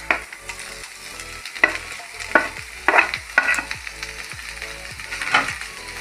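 Pieces of fried egg are stirred into a sizzling egg roast masala, with repeated close scraping strokes of a spoon against the pan over a steady frying crackle and no talking.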